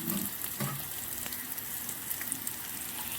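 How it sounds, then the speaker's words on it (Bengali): Onion and green chili fry steadily in mustard oil with five-spice seeds, a continuous close sizzle with faint stirring scrapes throughout. "সর্ষের তেলের মধ্যে 5 ফোড়ন, কাঁচা লঙ্কা আর পেঁয়াজ দিয়ে একটু ভেজে নিচ্ছি আমি।"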